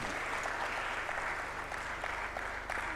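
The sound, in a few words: applause for Moza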